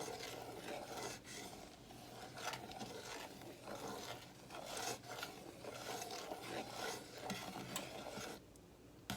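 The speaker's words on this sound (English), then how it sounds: "you're gonna continuously stir the ingredients together until it starts thickening" Play dough ingredients being stirred continuously in a pot as the mixture thickens, a steady soft scraping and rubbing of a spoon against the pot, close but quiet, with no talk.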